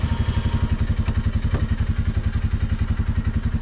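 Polaris Ranger utility vehicle engine running steadily, a loud, close, rhythmic chugging pulse with a faint clatter, alone with no talk.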